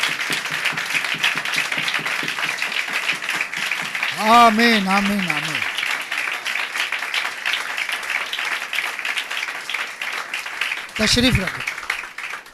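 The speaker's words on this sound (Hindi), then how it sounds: "यीशु मसीह के लिए जोरदार तालियां बजाएंगे" Congregation applauding for Jesus Christ at a church service, steady crowd clapping running throughout at moderate level, with a voice speaking briefly over it twice.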